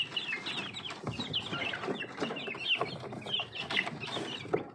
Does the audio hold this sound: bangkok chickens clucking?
yes